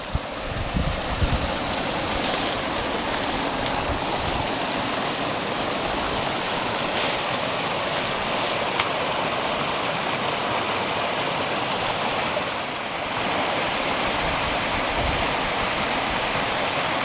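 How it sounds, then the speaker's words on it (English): Small stream and little waterfall beside a roadside ATV trail in springtime Elliot Lake: steady, broadband rushing water, fairly close and continuous, with no voices. "A little bit of a waterfall right there."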